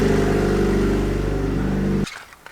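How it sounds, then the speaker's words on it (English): Car engine idling with an exhaust leak, a loud, steady rough puttering drone with a ticking pulse that holds for about two seconds, then cuts off abruptly and fades. "Can absolutely hear that exhaust leak."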